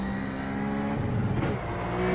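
A Ruf C-Spec race car in iRacing at Summit Point revs hard and steadily, its engine droning loudly and continuously with a brief surge partway through and no talk over it.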